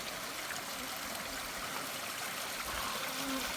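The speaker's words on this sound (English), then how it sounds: "nice water source" A mountain stream in Day Canyon, on the trail from Joe Elliot Campground, keeps up a steady, close rushing trickle without a break, with no voices over it.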